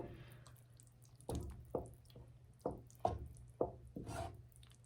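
Thick mac and cheese sauce stirred in a pot with whipping motions, giving a run of wet, squelching spoon strokes at a steady rhythm, close and fairly quiet, with no talk.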